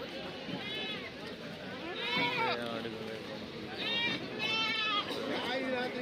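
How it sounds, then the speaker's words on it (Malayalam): Goats bleating repeatedly at a busy livestock market in Kerala during a festival sale, several wavering calls rising over a crowd murmur of people talking nearby. "ഇവിടെ കുറേ ആടുകളെ വാങ്ങിക്കൊണ്ട് പോകുന്നുണ്ട്"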